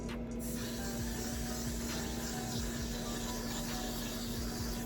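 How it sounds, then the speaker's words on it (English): Hair spray hisses continuously from a can over old knotless braids, a close, steady spray lasting several seconds with a faint hum beneath. "I'm spraying it all over because it's like frizzies"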